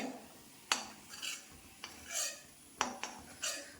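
A spoon scoops fried onions and chillies out of hot oil in a pan over a high flame, giving several sharp metallic scrapes and clinks spaced apart, with faint sizzling between them.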